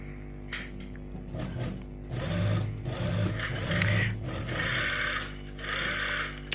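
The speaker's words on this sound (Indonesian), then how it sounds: "Langsung kita jahit." A sewing machine stitches a safar hijab in loud, rapid bursts of needle chatter, starting and stopping several times over a constant low motor drone.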